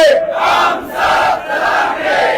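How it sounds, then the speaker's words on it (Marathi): A large Maratha rally crowd outdoors in Antarwali, chanting the slogan "Ladhenge jeetenge" together in loud, sustained, rhythmic shouts, one voice leading and the mass answering. "आपण एकदा एक घोषणा देऊया, लढेंगे जीतेंगे"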